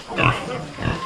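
A farm pig gives a couple of short, close grunts in quick succession, a brief rough snort-like sound with nothing else around it.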